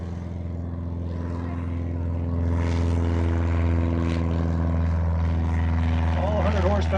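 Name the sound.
Cessna 150 light airplane taking off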